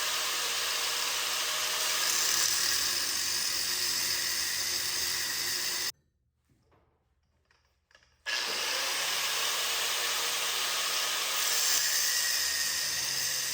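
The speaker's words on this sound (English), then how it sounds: "So I'm gonna go ahead and cut that outer tie rod." A Lexus IS300 outer tie rod is cut with a power tool, giving a loud, steady grinding whine that stops for about two seconds of near silence and then resumes at the same level.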